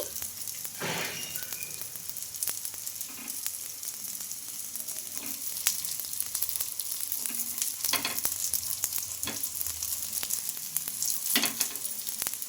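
Sago (sabudana) breakfast cakes roast in a shallow pan without deep frying and are turned on both sides, giving a steady close sizzle and crackle with occasional soft scraping and stirring clicks throughout.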